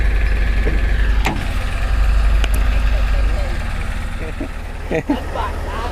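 A four-wheel-drive Thai farm dump vehicle (e-taen) powered by a Kubota ZT155 engine runs at a steady idle, a close, continuous low rumble with a few clanks, while someone talks over it.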